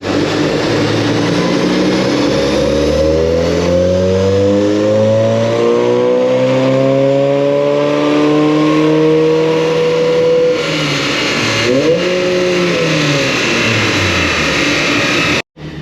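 A diesel car on dyno rollers at a high-octane dyno day, making about 524.6 Newton meters, revs loudly and close through long rising and falling engine sweeps, climbing through the gears, then cuts off abruptly.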